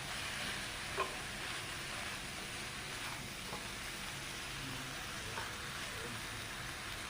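Boiled, drained tapioca is stirred and mixed in a frying pan, giving a steady close sizzle with occasional scraping clicks of the spoon against the pan, and no clear speech.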